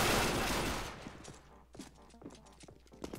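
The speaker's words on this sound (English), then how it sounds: "Way to waste your ammo, noob." Gunfire in CS:GO on the Coast map: a loud burst at the start fades, followed by scattered lighter shots and clicks at moderate distance.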